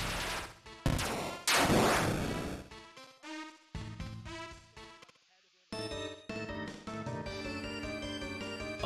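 Video game gunfire comes in sharp bursts of loud shots and volleys, with a brief quiet gap before rapid firing resumes, as people talk over the game.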